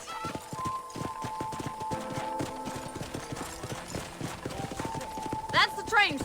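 Steady hoofbeats clip-clop throughout over a musical backdrop in Red Dead Redemption, with a horse snort or whinny near the end.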